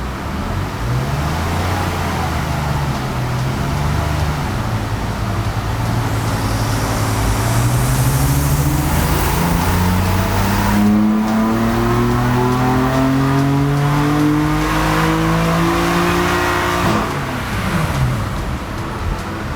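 A BMW F80 M3 engine with an Eventuri intake revs up steadily under load on a dyno, its pitch climbing for several seconds in a loud sustained roar before dropping off near the end.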